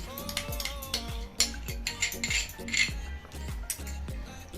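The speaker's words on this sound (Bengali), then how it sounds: "এই যে হালকা ফুলকপিগুলো ভেজে রেখেছিলাম, তার মধ্যে আমি এই টক দইটা ভালো করে ফেটিয়ে দিয়ে দিচ্ছি।" Whisked sour yogurt going into lightly fried cauliflower for a cauliflower korma, heard as repeated clinks and scrapes of a metal spoon against a pot in a quick uneven rhythm, close and fairly loud, with no voices.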